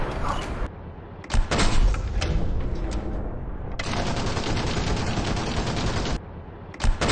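Heavy gunfire in a tank battle video game comes as long loud sustained bursts that fill the clip, broken by short pauses and sharper blasts, with no talking.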